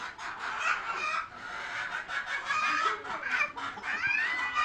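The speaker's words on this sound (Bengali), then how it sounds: "মুরগিগুলো এখানে সুন্দরভাবে ওরা বসে আছে" Native deshi hens, red and golden, cluck in a poultry shed, a dense overlapping chorus of close chattering clucks with a few higher calls, continuous and lively throughout.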